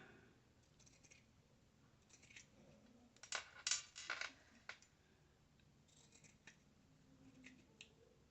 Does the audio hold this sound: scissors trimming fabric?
yes